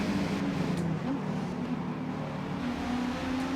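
A Mercedes-Benz race car engine in Forza Motorsport drones steadily throughout, a loud continuous hum with slight pitch shifts as the car runs at speed.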